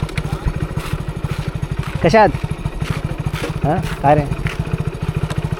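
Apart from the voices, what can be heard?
motorcycle riding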